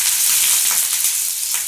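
Loud, continuous sizzling of onions frying in hot oil with popped mustard seeds, close up, with no talking.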